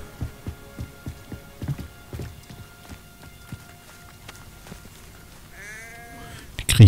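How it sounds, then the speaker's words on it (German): Sheep bleating in the video game Hogwarts Legacy, a few short wavering bleats close by near the end, after a run of soft rhythmic footsteps on the ground. "Hallo, Schaf."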